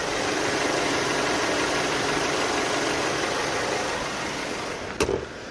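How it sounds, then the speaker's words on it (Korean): A car engine idling steadily with a smooth, quiet hum and broadband whir throughout, a brief knock or click near the end. "바로 엔진 소리 한번 들려드릴게요."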